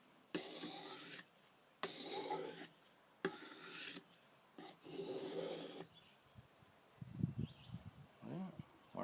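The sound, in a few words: knife blade drawn across a sharpening stone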